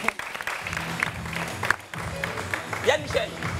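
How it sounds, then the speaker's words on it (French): An audience at a live French debate show applauds, a crowd's clapping running underneath voices that talk over it. "Et ça s'applaudit."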